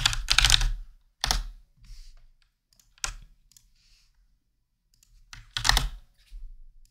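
Close, crisp keystrokes on a computer keyboard come in short bursts of rapid clicks separated by quiet pauses.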